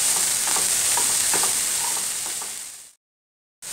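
Chopped coriander stirred into spice paste in a hot pan gives a steady sizzle with soft scraping strokes of the spoon, close and moderately loud, before cutting to a brief silence.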